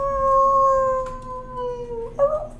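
A person's voice imitates a big dog howling, one long sustained howl that bends slightly downward, then breaks into a short rising yelp near the end, close and loud with no other talk.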